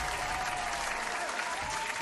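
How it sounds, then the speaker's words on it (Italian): A crowd claps continuously, a dense and fairly loud patter of many hands at an even level throughout. "Allora, un altro applauso."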